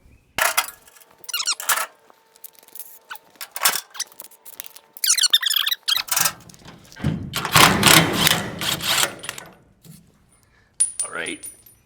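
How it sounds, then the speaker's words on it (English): Metal hitch parts on a 1988-98 GMC/Chevy truck clank, thud and rattle in a string of uneven bursts, with a louder clattering stretch in the middle, close by and working alone. "Let me go ahead and drop this hitch out the way."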